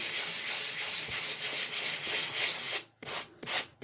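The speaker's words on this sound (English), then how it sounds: "I'm using some P240 sandpaper, very, very fine, and I'm gently going to sand one section of each" Fine P240 sandpaper gently rubbed across watercolour paper, a steady close scratchy hiss that breaks off near the end into a few short separate strokes.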